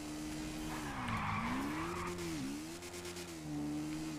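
Car skidding under the handbrake in a video game, a continuous tire squeal whose pitch dips and bends twice over an engine hum, fairly faint and without talk.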